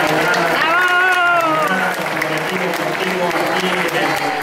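An audience applauds at the inauguration of a solidarity event, a broad steady wash of clapping with voices and a sustained tone over it early on, continuing evenly to the end.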